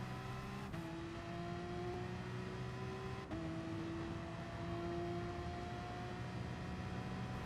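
A Porsche race car in Gran Turismo Sport hums at a steady, moderate level, with engine pitch dropping at two brief shifts and then climbing smoothly as the throttle comes back on. The engine is heard on its own, without voices.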